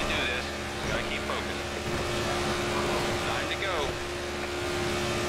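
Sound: struggling NASCAR stock car engines, from NASCAR '14 video game

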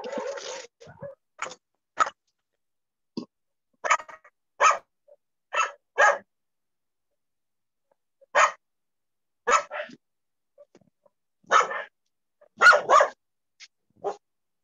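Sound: excited pet dog barking

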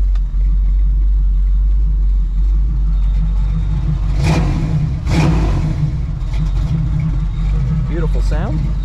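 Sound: 1970 Chevrolet Nova Yenko tribute engine revving

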